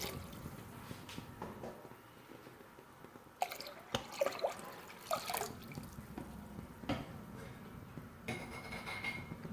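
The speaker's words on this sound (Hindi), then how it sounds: "साथ ही हम पानी शामिल कर देंगे। पानी हम 4 से 5 गिलास शामिल करेंगे।" While dal is cooking in a clay pot, water is poured in, and faint dripping and splashing trickle in irregular bursts with a few louder clatters, quiet and close with no speech.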